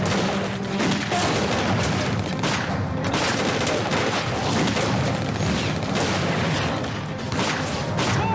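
Gunfire in a war film, a dense continuous fusillade of loud overlapping shots and booms with rattling bursts that never lets up.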